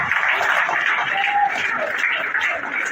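Continuous crowd clapping fills an outdoor community dedication gathering in Nimba County, Liberia, a steady, even patter with faint voices blended underneath.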